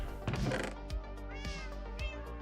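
A house cat meows several times up close, with repeated short calls and a drawn-out cry between them, clear against a quiet indoor background.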